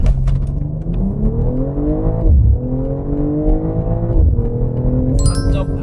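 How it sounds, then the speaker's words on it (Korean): Close, loud run of a BMW 4 Series with a 48V mild-hybrid system launched hard from a standstill, its engine climbing steadily through the revs with gear-change dips along the way and a continuous drone from inside the car. "런치 컨트롤 하듯이 가속 페달 밟고 한번 해볼게요"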